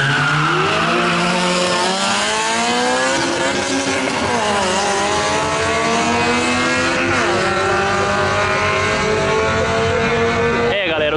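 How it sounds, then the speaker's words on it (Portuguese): A Volkswagen Amarok V6 on nitro and a Honda Civic Si in a drag race, engines roaring loudly and steadily with rising pitch through gear changes, close and sustained, with people talking underneath. "Mas que lindo o barulho do Rondato, hein, velho"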